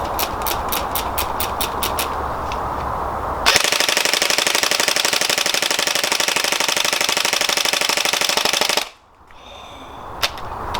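An Ares G36C electric blowback airsoft rifle fires one long full-auto burst of about five seconds, a close, loud, rapid mechanical rattle that stops abruptly. Quieter clicking and handling noise come before it.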